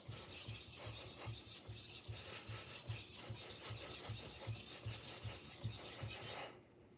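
A kitchen knife scraped repeatedly along a sharpening stone, a steady rhythmic rasp of about two strokes per second, close and clear, stopping abruptly near the end.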